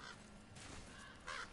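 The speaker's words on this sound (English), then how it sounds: "sort of crows or, like, ravens or something?" Crows or ravens cawing in the video game God of War: a few harsh calls, one at the start and a louder one near the end, over a steady ambient game backdrop.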